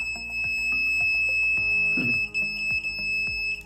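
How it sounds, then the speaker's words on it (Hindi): An electronic pad rubbed over a chip gives off repeated, steady alarm-like beeps in quick succession, close and fairly loud, with no talking. "ये देखिए किस प्रकार ये बीप कर रहा है बार बार"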